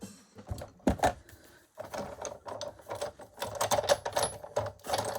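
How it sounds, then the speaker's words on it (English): A die cutting machine works through paper, giving a close, uneven run of clicking and whirring mechanical sounds with brief gaps and no speech. "So all I did here was I get my die cut machine."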